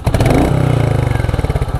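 A Royal Enfield Meteor 350 motorcycle engine runs close by with a loud, steady thumping pulse, its rhythmic low beat continuing throughout with no talking.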